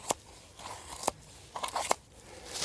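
A sharp blade pares thick shavings from wood, giving four distinct crisp crunching cuts at irregular intervals, close and fairly quiet against a soft background hiss.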